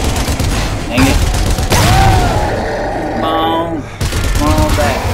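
Gunfire against zombies in the shooter Zombie Army Trilogy, loud bursts and booming shots layered with game noise and groans while players talk throughout.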